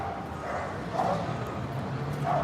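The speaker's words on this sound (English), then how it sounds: "Her name is Ileana Rasputin, the magic dog." A dog gives a few short, yipping barks at close range, spaced out over steady background noise.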